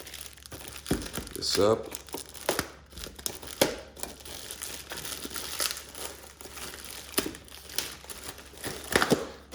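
Packaging for an Iwatani grill attachment is torn and crinkled open, with bursts of loud plastic and cardboard rustling close by, interleaved with someone talking.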